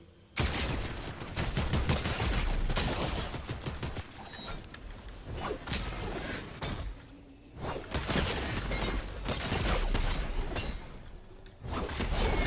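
Rapid gunfire from a weapon in a Minecraft-style multiplayer video game, a dense stream of loud shots and crackling impacts running almost continuously with a few brief gaps.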